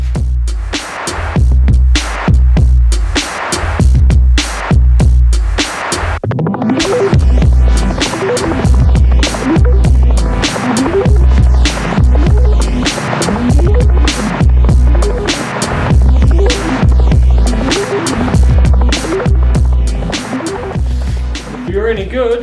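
Power drill boring holes in wood for a carpenter's fence, loud whining motor bursts repeating in a steady rhythm with short pauses between, close by and dominating, with a low throbbing hum underneath.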